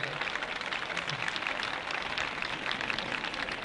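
An audience applauds at an anniversary celebration held by the Ayvacık municipality, a continuous dense patter of many hands clapping at an even level, moderately distant and without pauses.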